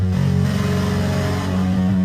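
Super Mario Bros jump effect pitched low and fed through a distortion plugin, giving a continuous gritty, engine-like buzzing drone with dense harmonics, loud and alone throughout.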